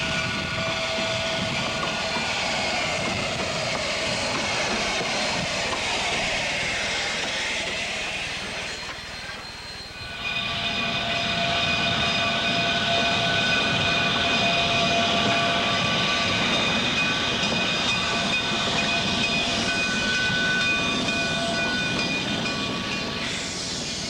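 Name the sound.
narrow gauge trains pulling in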